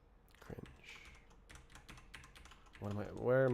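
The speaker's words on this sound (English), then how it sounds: "stop hitting keys" Computer keyboard keys are struck in an irregular string of light, close taps over a quiet background, and a voice starts speaking near the end.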